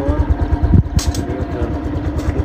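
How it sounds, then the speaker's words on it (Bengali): A geared scooter's small engine runs steadily near the microphone, a low rumbling putter with a brief sharper rev and clatter partway through. "এটা গিয়ারওয়ালা স্কুটি, সামনে চাপলেই গিয়ার 1"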